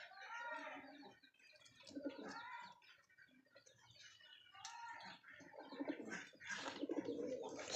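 Pigeons feeding at a loft coo in soft, repeated rolling calls, close and continuous, with a few faint chirps mixed in.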